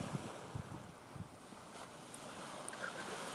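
Lake waves at night wash and lap faintly under steady wind noise on the microphone, with a few soft low thumps near the start.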